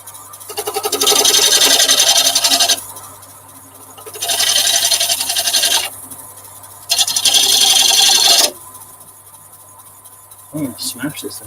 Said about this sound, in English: So I'll go back to the ball gouge then.